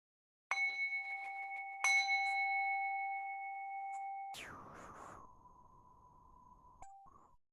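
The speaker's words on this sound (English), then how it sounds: "sounding of the morning bell." A morning bell sounded to open a Sunday worship service, ringing in two clear pure-toned strikes that sustain and ring out, followed by a softer tone and a brief final touch, heard alone and fairly quiet.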